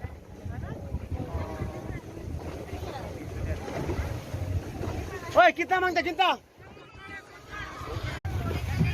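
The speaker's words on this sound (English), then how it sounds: "we are doing boating right now, power boat" A power boat roars over wind and splashing sea water off Calangute beach, Goa, with excited voices talking and shouting on board throughout.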